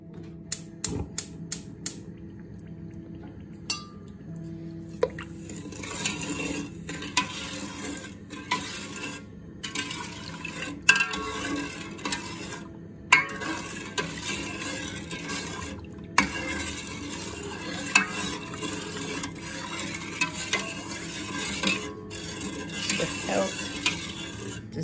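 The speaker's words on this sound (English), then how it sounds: "I'm going to give it a good stir." A spoon stirs granulated sugar into apples in a pot. Soft scraping and clinking against the pot wall repeat steadily and close up for the whole stretch, with no voices.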